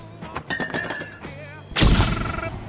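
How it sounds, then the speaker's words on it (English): A flashbang grenade thrown during a video game: clicky handling noises, then a loud, sudden burst of bright, harsh noise that carries on to the end of the clip, with no speech. "Throwing flashbang."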